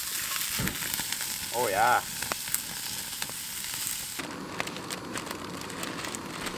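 Onions and garlic frying in a little oil over a camp stove on a remote island, a steady bright sizzle with a short voice remark over it and a shift to a softer crackle partway through.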